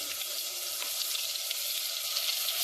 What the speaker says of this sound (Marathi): आता मसाला भाजण्यासाठी मी गॅसवर पातेलं ठेवलेलं आहे त्यामध्ये मी आम्ही मसाला भाजून घेत आहे